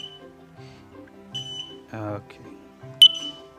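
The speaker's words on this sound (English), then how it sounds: "The best way to play it is by simply pressing the test button on the front." A smoke detector's test button sets off a short, piercing electronic beep near the end, preceded by a soft musical backing, with a brief spoken word in the clip.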